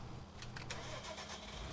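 Tractor engine in the video game Farming Simulator 19, a steady low, rumbling drone running throughout at a fairly quiet level.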